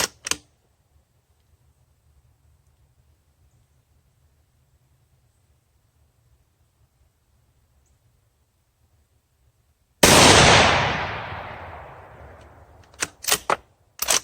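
A single loud, close shot from a Ruger Go-Wild .243 rifle at a range, its blast decaying over a few seconds, followed by a few sharp metallic clacks of the bolt.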